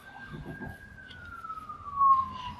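An ambulance siren passes outside in a neighbourhood, a single long wailing tone that slowly drops in pitch as it moves away, heard faintly indoors under brief speech.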